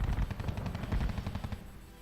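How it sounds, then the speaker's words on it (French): Gunfire from the strategy war game R.U.S.E. comes as a rapid burst of repeated shots, like machine-gun fire, that fades over about two seconds. "Ça, c'est les coups de feu."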